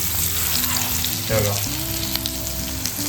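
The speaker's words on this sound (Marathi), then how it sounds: "एका बाजूने किती छानपैकी फ्राय झालेला आहे" Stuffed pomfret fish frying in hot oil in a home kitchen, a steady close sizzle running throughout with some faint background tones and clatter underneath.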